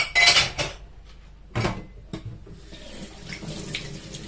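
Tap water runs into a sink as plastic juice bottles are rinsed, with splashing bursts and clattering handling sounds close by.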